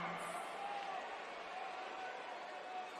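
A wrestling show crowd cheering steadily in an arena as a wrestler makes her way to the ring, a dense continuous roar of voices with no single voice standing out.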